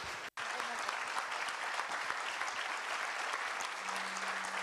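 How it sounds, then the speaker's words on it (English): An audience applauds after a speaker at a debate event, with sustained even clapping from a large crowd, a brief dropout near the start, then continuous hall-filling applause. "A big round of applause to Arja."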